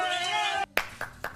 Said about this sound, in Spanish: te aplaudo